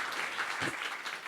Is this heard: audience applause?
yes